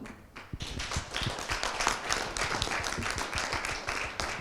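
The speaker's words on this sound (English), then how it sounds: "A round of applause for Brian." Applause for a panelist at a panel on democracy and digital transformation in wartime, many hands clapping close and dense, sharp individual claps standing out in a sustained burst.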